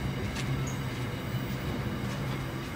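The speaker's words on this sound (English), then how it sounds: "Looks like here's our train." A Sydney light rail train rumbles past at a moderate distance, a steady low rolling drone with faint metallic rattles and a brief high squeak.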